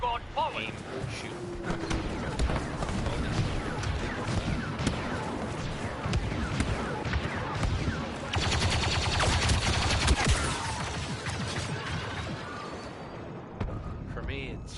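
Star Wars Battlefront 2 blaster gunfire crackles in dense, rapid bursts through a busy battle, with a heavier stretch of shooting midway, while a voice talks over the action.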